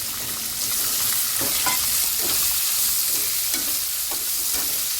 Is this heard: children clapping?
no